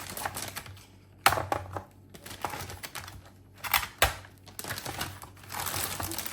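A plastic freezer bag crinkles and rustles while samosas filled with meat and cheese are packed into it. The sound comes in uneven bursts with short soft thuds, close to the listener and with no voices.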